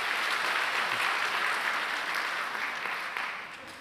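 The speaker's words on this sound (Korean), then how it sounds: "우리 박수 한번 하시죠" A church congregation applauds together in a hall, producing a dense burst of clapping that holds steady and then fades near the end.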